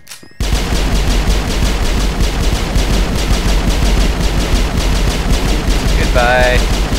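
Robots in Mass Effect fire machine guns in a loud, continuous rapid burst that starts abruptly after a brief quiet moment and hammers on steadily, with a short electronic tone flickering near the end.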